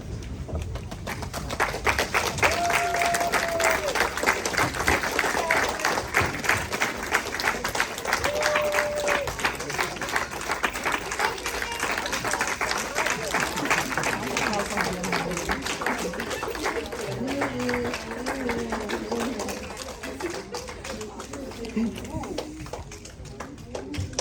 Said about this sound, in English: Please stand, audience, while they fall in, and you may applaud them.